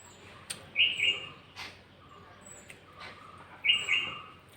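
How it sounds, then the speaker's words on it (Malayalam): A bird chirps outdoors in a few short, bright bursts, with some clusters of quick notes and quiet gaps between calls and no talking. "ഏത് കിളിയാണെന്നറിയത്തില്ല കേട്ടോ"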